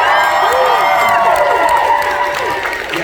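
Convention panel audience at a Supernatural cast panel claps and cheers loudly and steadily, with whoops and shouts rising over the dense applause throughout.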